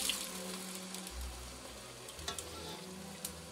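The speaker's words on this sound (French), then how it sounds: "On va déglacer une dernière fois avec une louche et demie de bouillon." Broth poured into a hot pan to deglaze it, a ladle and a half added over stuck-on browned bits, giving a steady close sizzle with brief scraping and stirring noises.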